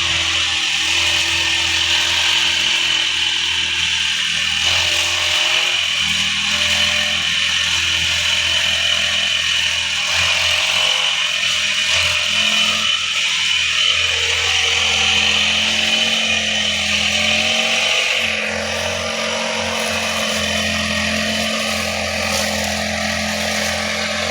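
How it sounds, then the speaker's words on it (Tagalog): A grass cutter trims grass on a farm in Bulacan, its small engine droning loudly and continuously with a high whine, steady throughout with slight variations in load. "nagka-grass cutter si Dudong."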